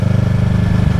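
A 2024 Kawasaki Ninja 650 motorcycle with a full exhaust system and no catalytic converters idles close by, a loud, steady, pulsing low rumble with no other sounds.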